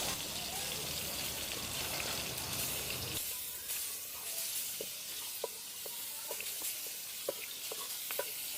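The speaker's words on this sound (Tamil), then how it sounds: "பட்டரும் தேங்காய் எண்ணெயும் நல்லா சூடாகட்டும்." Butter and coconut oil heating together in a pan for a paneer butter masala, giving a soft broad hiss that settles into a quiet bed of scattered crackles and pops.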